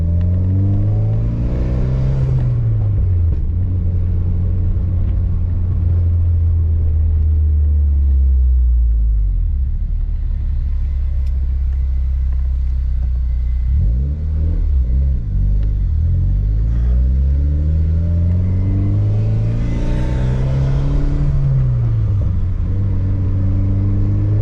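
A Mitsubishi Lancer Evolution X revs hard through several rising and falling sweeps, its turbo spooling up with a loud, close, steady engine roar and no talking.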